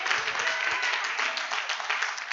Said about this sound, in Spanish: Sí, démosle un aplauso al Señor.